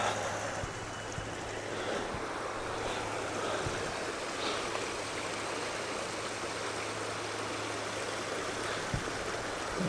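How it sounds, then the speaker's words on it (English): A spring-fed creek spills over rocks where water comes out of a hillside, giving a steady, close, broadband rush and gurgle that holds constant throughout with no voices. "We can see the water coming out of the hillside here."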